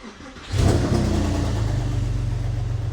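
A car engine cranks and catches with a brief rev, then settles into a steady, close idle that rumbles on.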